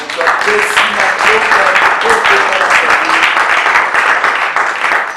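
Loud, sustained applause from a church congregation clapping as an offering of praise to God during a French-language sermon, a thick continuous rattle of many hands, with a few voices and tones rising faintly beneath it.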